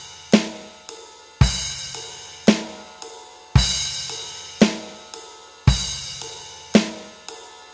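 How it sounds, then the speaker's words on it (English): A drum kit plays a basic beat, with a sharp crash cymbal hit opening each phrase before the pattern returns to the ride cymbal. The strikes come in a steady, evenly spaced rhythm, close and loud, with no talking. "instead of hitting the ride, I just bring it over to the crash, and then immediately bring it back over to the ride"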